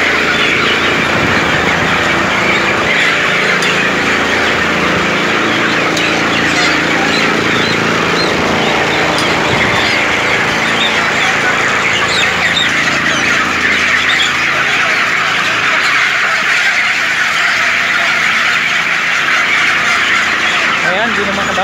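Chickens squawking and clucking continuously on a farm, a dense chorus of close, loud bird calls with people talking over them.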